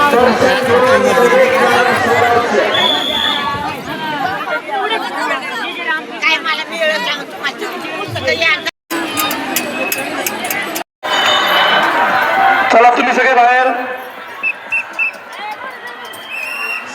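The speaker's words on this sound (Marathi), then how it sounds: "स्क्रीन समोर गर्दी वाढते" Devotees crowd in front of a screen at a temple darshan, a dense babble of many voices with occasional clinks, loud and close, with two brief cuts to silence.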